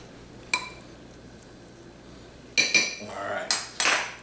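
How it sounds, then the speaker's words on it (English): A metal spoon clinks and scrapes against a slow cooker pot while stirring minestrone soup, with one sharp knock followed after a pause by several bright clinks and a wet, sloshing swirl. "I'm going to take a spoon, kind of stir it around"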